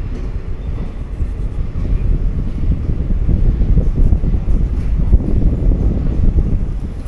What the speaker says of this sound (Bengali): একদম সঠিক সময় মানে 3:45 কিন্তু আমাদের ট্রেন এন্টার করলো শিয়ালদাতে